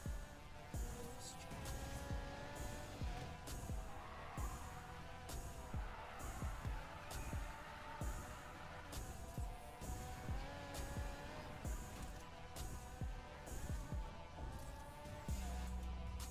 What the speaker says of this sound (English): You just need enough horsepower so the tires can spin to make you go sideways.